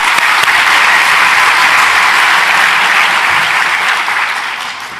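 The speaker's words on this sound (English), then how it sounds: "So just a round of applause." A conference audience breaks into loud, sustained applause from many hands, holding steady before tapering off slightly at the end, with no voices over it.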